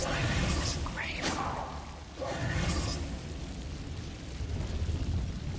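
Blasting curse explosions in a Hogwarts video game, heavy whooshing booms and rumbling bursts at close range, mixed with spoken spell incantations.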